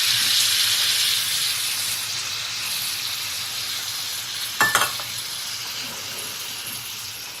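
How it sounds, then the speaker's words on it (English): A pot of rice and gravy simmers steadily, a soft continuous sizzle and hiss with a brief clink of a utensil partway through, with no voices. "The gravy right here that the rice made. And let it simmer just a little bit."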